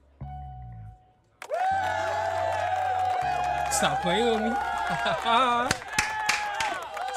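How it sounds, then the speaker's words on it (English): Canned applause and cheering fired from a Stream Deck, a loud burst of clapping with whoops and a bright musical jingle layered over it, following a brief spoken remark. "I'm showing y'all all this stuff and I can't get a round of applause?"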